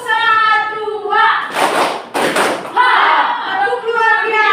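Classroom pupils perform a rhythmic spirit clap chant, group voices chanting with a cluster of loud, sharp clap bursts in the middle before the chanting resumes.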